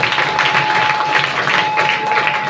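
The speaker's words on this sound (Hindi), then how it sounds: "जोरदार ताली से मैं स्वागत कर रहा हूँ।" A church congregation applauds loudly and steadily in welcome, the dense clapping filling the room without a break. A faint steady tone hums underneath.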